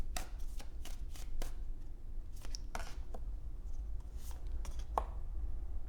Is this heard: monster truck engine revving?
no